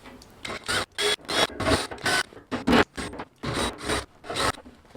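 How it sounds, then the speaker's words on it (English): Repeated harsh grinding bursts, about ten in quick succession with short pauses, as a drill bites into a metal barrel and cast iron door frame up close. "I'm hitting them with the drill bit through the holes that are there"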